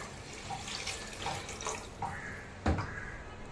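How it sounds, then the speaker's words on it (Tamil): Water poured into a pot of raw rice while cooking hotel-style tomato rice, a steady splashing flow like a running tap that rises and falls in short surges, with a brief louder clunk near the end. "இப்போ தண்ணி ஊற்றிக்கலாங்க"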